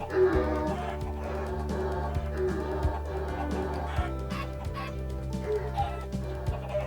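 Minecraft chickens cluck repeatedly in short, evenly spaced bursts over a steady game background, moderately loud and close.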